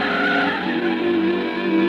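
Old pre-war car skidding as it turns, a loud sustained tire squeal with a wavering tone over engine noise, close and alone.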